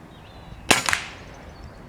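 A single sharp crack of a fully tuned Ben Taylor Theoben air rifle fired at a squirrel about 25 yards away, loud and close, with a brief impact snap right after and quiet before and after.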